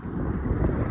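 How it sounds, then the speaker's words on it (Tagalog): Wind blowing across an open prairie field in Clavet, Saskatchewan, on a cloudy day with crosswind, a steady low roaring rumble buffeting the microphone with no voices. "medyo mahangin. May crosswind, sidewind."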